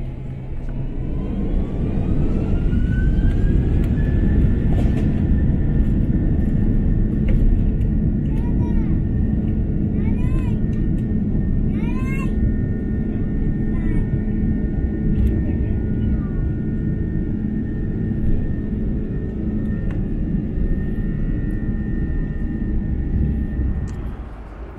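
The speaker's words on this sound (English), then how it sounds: "Now onto the takeoff video" A Malaysia Airlines Airbus A330-300 airliner takes off on a night flight, its engines spooling up into a loud steady roar with rising whine and rumble heard from inside the cabin throughout.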